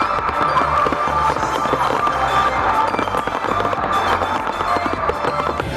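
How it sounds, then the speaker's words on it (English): Fireworks finale by a leading pyrotechnics team at the Seafire event on the Gold Coast, Australia: a loud, dense barrage of rapid crackling bursts and booms, continuous and overlapping throughout. "The event of Seafire is then concluded with a final firework expedition piece done by Australia's"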